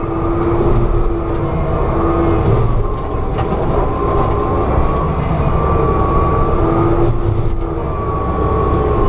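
A forestry mulcher runs with its drum on the ground, making a loud, continuous heavy engine and machinery drone that holds steady for the whole stretch, with no one talking.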